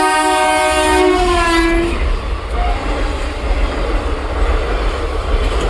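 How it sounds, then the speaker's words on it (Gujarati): A train passes close by at a level crossing, its horn sounding loud and sustained for about two seconds before the heavy rolling rumble of wagons carries on steadily. "ચાલો ઘડીક રાહ જોઈએ ટ્રેન આવે"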